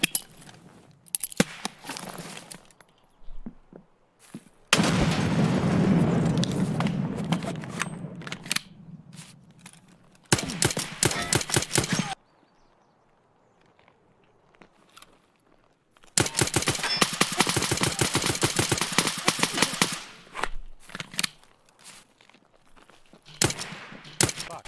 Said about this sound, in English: I shot Santa